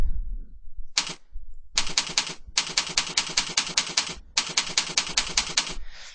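Rapid bursts of keyboard typing as a username and password are entered during a WordPress setup, clacking in dense, evenly spaced runs separated by brief pauses, close and clear with no talk.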